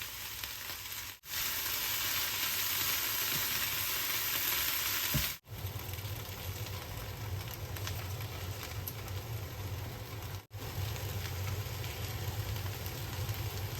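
Chopped cabbage and onions sizzle steadily in a hot pan, a loud continuous frying hiss with two brief dips where the food is stirred or added.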